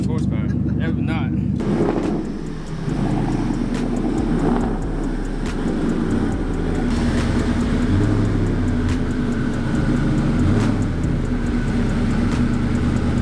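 Twin-turbo 1987 Ford Mustang Foxbody accelerating from inside the cabin, a loud steady engine rumble and drone running throughout with voices talking over it.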